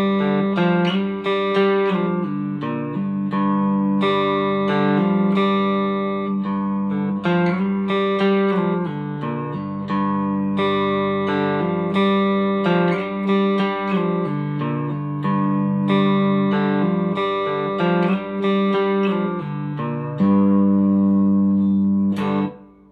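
Cigar box guitar riff played slowly, with sustained plucked notes, slides and pull-offs ringing out one after another, loud and clear with no talking.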